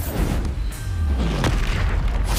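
A Bombarda spell detonates in Hogwarts Legacy with a deep booming blast and a falling low rumble, followed by a sharp crack, set against continuous game noise.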